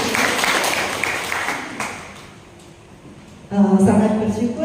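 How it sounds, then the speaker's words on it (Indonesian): A church congregation claps briefly in a moderate burst that fades within about two seconds, then a voice speaks over the quiet room. "Luar biasa, tepuk tangan dulu."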